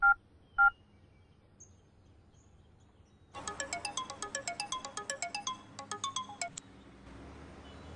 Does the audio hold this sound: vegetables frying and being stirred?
no